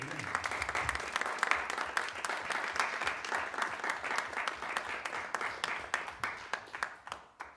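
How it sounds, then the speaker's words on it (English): Audience applause after a talk on making multichannel music, many hands clapping steadily and loudly for several seconds before thinning out to scattered claps. "Let's give it a round of applause for Kate."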